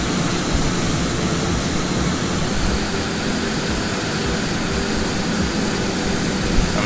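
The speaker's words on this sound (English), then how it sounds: "So we'll do a nice flyby on that right turn right after departure." Loud, steady roar of a ToLiss A339neo airliner's engines during a flyby in a right turn just after departure in X-Plane 12, a dense, continuous wash of jet noise that holds evenly throughout with no voices.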